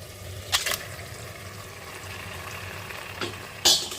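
Mutton goes into frying masala in a pan for a Portuguese-style mutton vindaloo: a steady low sizzle with two sharp, loud bursts of spitting oil near the start and end, and a fainter one in between.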